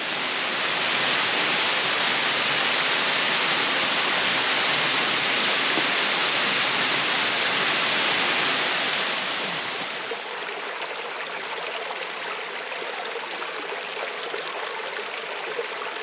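A waterfall in the Sipsey Wilderness roars with a dense, steady rush of falling water, loud and close, then softens partway through as the roar drops to a lighter hiss.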